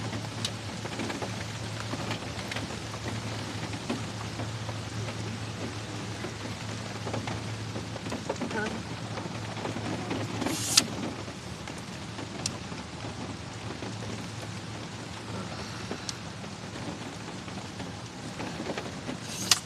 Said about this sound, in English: But it wasn't raining, and then all of a sudden it was.